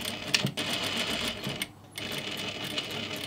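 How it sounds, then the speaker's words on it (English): A sewing machine stitches along a rectangular outline on climbing-pants fabric, its rapid needle chatter running steadily close up, with a short pause in the middle before resuming. "Then you're just going to sew over that rectangular outline."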